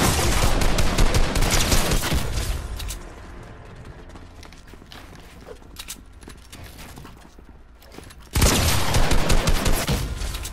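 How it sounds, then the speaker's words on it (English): Rapid gunfire in Fortnite, loud bursts at the start and again near the end, with a quieter stretch of scattered shots between. "I'm shooting faster"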